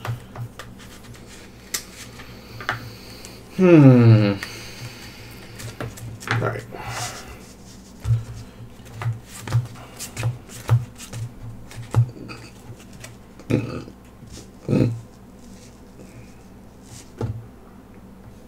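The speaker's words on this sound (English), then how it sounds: "Let's do some more shuffling." Playing cards for the card game Netrunner are shuffled and handled on a table, a quick riffle burst followed by scattered soft taps and card snaps, close and intermittent, with a voice speaking briefly.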